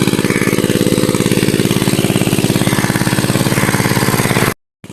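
A well water pump engine runs nearby with a loud, fast, even chugging, then cuts out abruptly just before the end.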